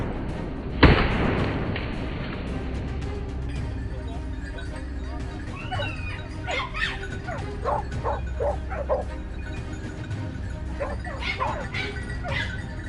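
Hunting dogs bark in a forest during a wild boar hunt, several sharp barks and yips scattered over steady outdoor rumble, with a loud thump near the start.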